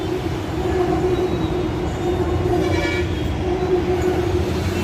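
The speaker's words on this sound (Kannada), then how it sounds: "ಮೇಲೆ ಮೆಟ್ರೋ ಹೋಗ್ತದೆ ಕಾಣ್ತಿದ್ಯಾ ನೋಡಿ" A steady, rumbling metro train roar passes overhead on Yeshwanthpur main road, continuous and fairly loud, with faint higher screeching tones drifting through the noise.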